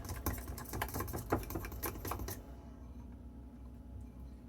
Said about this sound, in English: Good whisking, no flour clumps.